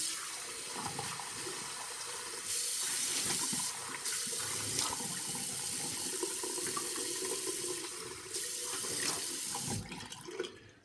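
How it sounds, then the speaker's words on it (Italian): Tap water runs into a sink while a face is wetted before shaving, a steady close splashing stream that swells louder at moments as hands cup and splash the water. "mi bagno il viso"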